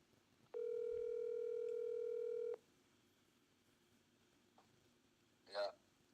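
A phone dial tone sounds while a dropped caller is called back: one steady, loud tone lasting about two seconds, then quiet, a faint click and a short burst near the end.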